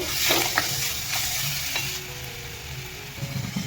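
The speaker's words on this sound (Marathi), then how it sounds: "आपण आता ह्याच्यामध्ये हिरवी मिरची आणि लसूणचा ठेचा टाकून घेऊया त्याला पण चांगलं परतून घेऊया आपण" Onion frying with a crushed green chili and garlic paste in a pan while being stirred, giving a steady close sizzle with scraping stir strokes throughout and no voices.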